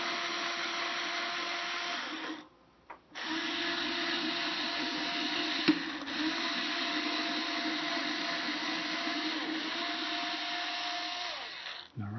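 Steady, loud whine of a power drill boring a pilot hole through the body of a Kala 8-string baritone ukulele, running continuously with a brief pause before it resumes and then reverses out.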